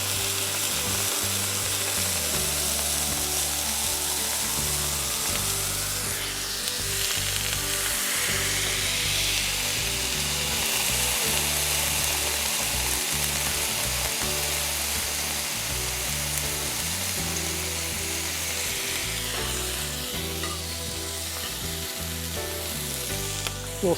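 Smashed burger patties sizzle hard on a hot griddle, a loud continuous crackling hiss lasting throughout, with a rising scrape midway and a low rhythmic hum beneath, close and alone without speech.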